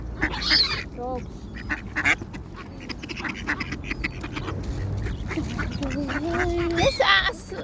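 Ducks quack repeatedly at close range while being fed bread outdoors, with several calls overlapping and louder bursts near the end, and people talking throughout.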